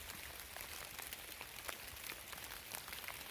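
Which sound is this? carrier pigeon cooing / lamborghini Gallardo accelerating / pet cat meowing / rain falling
rain falling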